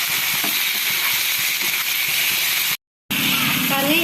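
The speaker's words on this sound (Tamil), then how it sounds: "தக்காளி சேர்த்து நல்லா பச்சை வாசனை போகிற அளவுக்கு வதக்கி விட்டுக்கலாம்" Tomatoes sautéing in a pan for a veg mix paneer masala, a steady broadband sizzle with light stirring scrapes throughout, close and fairly loud, broken by a brief moment of silence near the end.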